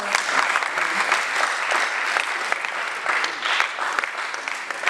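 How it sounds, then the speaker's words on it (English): An audience at a senior high school event on sex education gives sustained applause, dense steady clapping filling the room for the whole stretch with no break. "A better round of applause, please."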